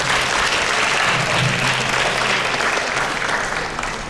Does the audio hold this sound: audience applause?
yes